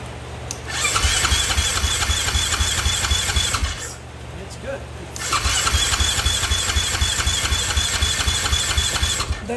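A KTM dirt bike with a newly installed fuel pump cranks in two close, loud bursts of rapid rhythmic churning, with a short pause between them.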